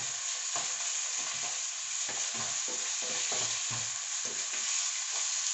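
Chicken pieces brown in a hot pan for a chicken curry, a loud, dense sizzle running throughout with scattered spatters and light stirring taps, close up and without any voices.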